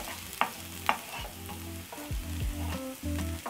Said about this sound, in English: And we'll saute for about 1 minute